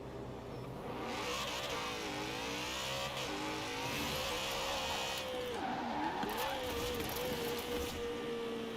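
A car engine in Forza Horizon 4 revs steadily at launch while running low boost under 2,000 RPM. The tone rises and dips, then settles into a sustained, fairly loud drone with no talk over it.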